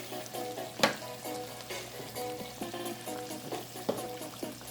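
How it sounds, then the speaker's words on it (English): Sweet yam sizzles and fries in butter and brown sugar with vanilla and cinnamon, a steady close crackle with a few sharper pops and stirring scrapes, no voices. "this is the sweet yam. Yes, being cooked in butter and brown sugar with vanilla, with cinnamon"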